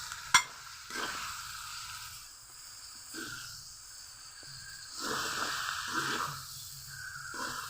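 Small fish frying in a pan of cooked spice paste, a soft sizzle and hiss with occasional stirring scrapes and a sharp tap near the start, fairly quiet and close.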